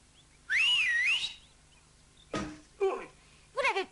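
A person gives a loud wavering wolf whistle at girls, one long sliding tone up close, followed by a few short coughs and vocal sounds.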